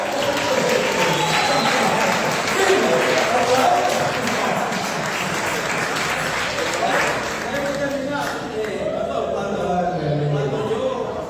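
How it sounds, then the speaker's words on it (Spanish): A congregation at a church service claps steadily, a dense wash of hands sustained from start to finish, with a murmur of voices and cheering mixed in and easing slightly near the end. "Pero un aplauso, por favor"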